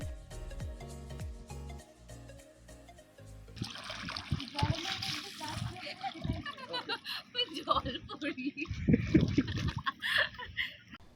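Water splashes and trickles in a hotel swimming pool in Mandarmani, with irregular sloshing bursts up close and people talking and laughing over it.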